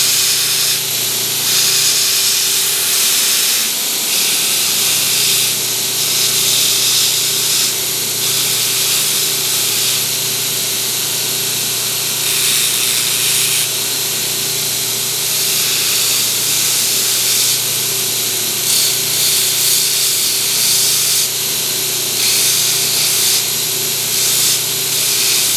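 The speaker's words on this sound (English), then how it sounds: "We use the back side of this thing, of the slack belt, with no platen." A slack belt grinder, worked on the back of the belt with no platen, shapes a new-old-stock Mora 311 knife, giving a steady, close, continuous hiss and whine with slight surges as the blade presses in, with no talk.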